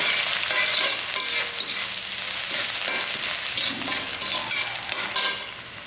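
Chopped onion hits hot oil with asafoetida for a snake gourd and appalam kootu, setting off a loud, steady crackling sizzle with scraping stir strokes throughout, no voices.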